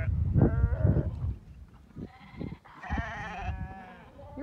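Sheep, ewes and lambs, bleating close by in several separate calls, some low and some higher and wavering, with short gaps between them.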